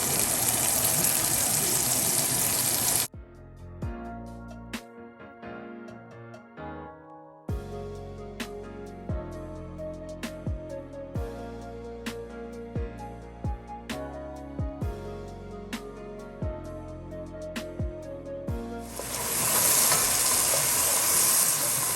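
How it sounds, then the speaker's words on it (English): Ham sautéing in a pan for a collard greens dish gives a steady, fairly loud sizzling hiss for a few seconds at the start and again at the end, with plucked melodic music filling the stretch between. "I'll saute it for maybe a minute or two. I'm gonna add the meat. Alright, then this is ham."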